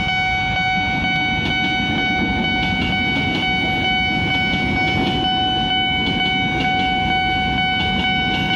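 A KRL commuter electric train rumbles steadily past nearby at a level crossing, with continuous loud wheel and rail noise and a sustained high tonal ringing like a crossing bell or horn.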